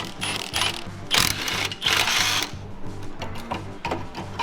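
A ratchet clicks in rapid, steady bursts while unbolting parts on a 1969 Rokon, with several pauses between runs of close, crisp clicking.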